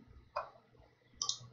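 Two quick computer mouse clicks, the first near the start and the second about a second later, each a short sharp tick over a quiet background.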